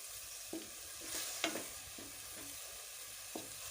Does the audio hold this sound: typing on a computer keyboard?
no